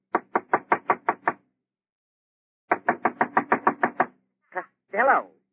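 Knocking on a door in a vintage comedy sketch: a quick run of seven raps, a pause, then a longer run of about ten raps, followed by brief vocal sounds.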